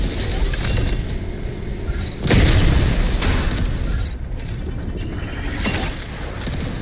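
Weapon fire and explosions in the mech combat game Mechabreak rumble in a continuous heavy wash, with a louder booming burst partway through and sharper hits scattered across, no voices.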